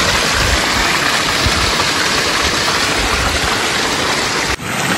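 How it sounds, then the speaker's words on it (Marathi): Borewell water gushes strongly into a farm field with a motor running, a loud, dense, unbroken rush that cuts out abruptly near the end. "हे आहे आमच्या बोरचं पाणी, इतक्या फ्लोनं वाहत आहे,"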